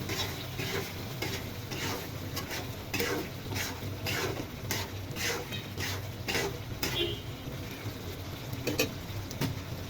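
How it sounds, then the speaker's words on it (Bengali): A spoon scrapes and clinks repeatedly against a pan while egg bhuna curry cooks down, soft sizzling beneath irregular stirring strokes, close but fairly quiet. "ঝোল শুকিয়ে আসতেছে, নেড়ে চেড়ে দিই"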